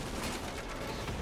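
Batmobile missiles fire in Batman: Arkham Knight, giving a brief, dense rush of launch and blast noise that fills the whole short moment with no talking.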